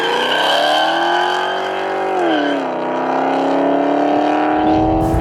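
A car's exhaust roars loudly while it is driven hard, the engine note sweeping and dropping as revs change, with a sustained harsh drone ending in a rumbling shift.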